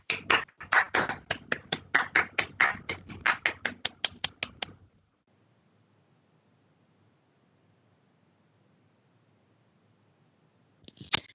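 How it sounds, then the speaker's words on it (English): Scattered hands clap briskly on a video call to welcome a performer onto the screen, a quick burst of close, sharp claps lasting a few seconds that stops abruptly, followed by near silence and a brief rustle at the end. "Clap your hands for Nadia."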